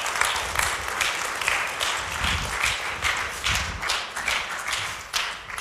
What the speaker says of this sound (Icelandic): Gefum henni gott klapp.